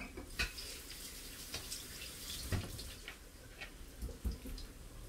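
Hands rinsed under a running kitchen tap while cooking, a faint steady hiss of flowing water with a few soft splashes and small knocks, no talking over it.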